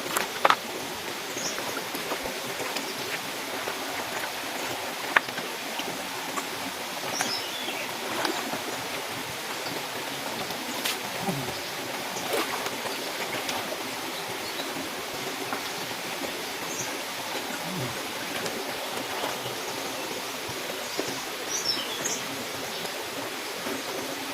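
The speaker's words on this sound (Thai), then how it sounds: "ก็มาถึงน้ำตกแล้วนะครับ" A waterfall on a forest stream fills the scene with a steady, dense rush of flowing water, constant and fairly close, with faint bird calls here and there and no talking.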